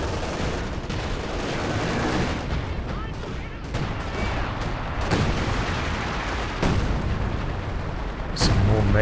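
Artillery shells land in a real-time strategy game battle as a steady, dense rumble of booms and gunfire, with sharper blasts near the end, beneath a commentator's voice.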